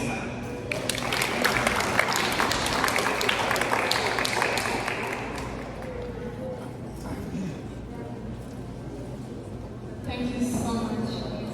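Audience applause at an HIV/AIDS stigma community gathering of Ugandans in Canada, sustained dense clapping filling the room, fading slightly toward the end with a brief swell, no talk over it.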